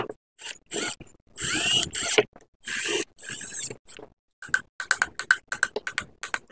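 An electric fan's bushing shaft gets tapped to balance it, producing a run of sharp clicking taps with quiet gaps, speeding into a rapid tick-like series at the end.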